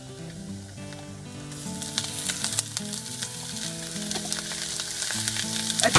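Butter sizzling and frying in a pan while cooking Saudi kabsah, a steady crackling hiss that swells after the first second and continues loud and close, with faint tonal hum beneath.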